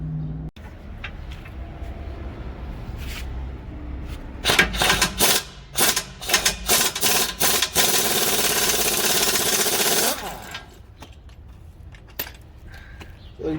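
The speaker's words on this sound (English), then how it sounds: "as soon as I pull that pin, you can hear the actual main pin holding the torsion bars" The torsion bar pin on a Silverado 1500 HD pickup being pulled, heard as close metallic scraping and clunking that builds into a loud, grinding, rattling stretch before dropping back to quieter handling noises.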